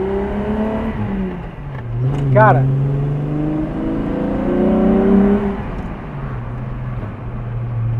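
VW Jetta MK2 with a VR6 engine, fitted with an aftermarket exhaust and BBS wheels, revving with a rising and falling engine drone under someone talking over it.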